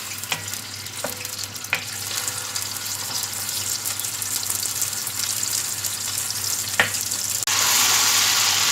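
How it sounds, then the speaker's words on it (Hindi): Chicken frying in about 1.5 cups of oil in a karahi gives a steady, close sizzle. A few sharp clicks and stirring knocks cut through it, and the sizzle swells brighter near the end. No one speaks. "चिकन हमारा फ्राई हो रहा है"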